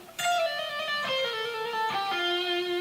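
An electric guitar plays the fast third lick of a song, a few clean sustained notes sliding downward in pitch with hammer-ons and pull-offs, close and clear with no voice over it.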